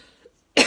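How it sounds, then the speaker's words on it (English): A single sudden cough breaks a quiet pause, loud and close, after a faint breath. "Excuse me, the cough."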